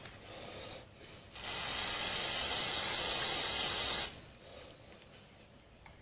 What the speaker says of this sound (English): I'm going to spray that off one more time.